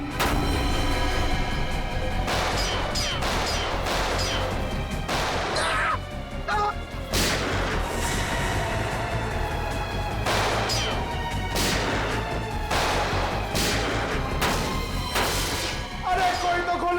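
Repeated sharp gunshots crack out in bursts across a busy, noisy scene from the Hindi TV crime drama CID, some shots overlapping, loud and close.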